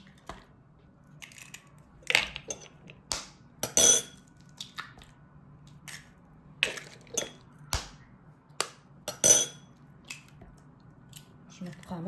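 Washed eggs are cracked into a bowl in a home kitchen, a series of sharp taps and cracks with shell clicks spaced irregularly, heard close alongside someone speaking.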